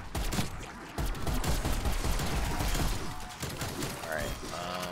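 Rapid gunfire rattles through a zombies match in the video game Call of Duty Black Ops Cold War, with loud, dense bursts of shots and mechanical clatter that keep going throughout.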